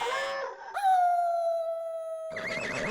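A dog lets out a long, loud sustained howl in a sitcom scene, rising sharply and then holding one steady wavering tone for over a second before noisier barking-like sounds take over at the end.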